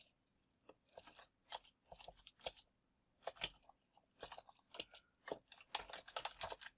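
Typing on a computer keyboard while writing flyer text in Microsoft Word: quiet, close clicks and clacks in uneven bursts of rapid keystrokes, with brief pauses between runs.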